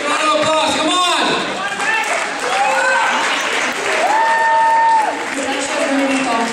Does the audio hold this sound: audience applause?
yes